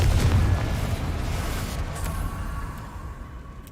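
A Confringo fire spell explodes in Hogwarts Legacy, a deep booming blast that starts loud and decays into a rumbling tail over a few seconds.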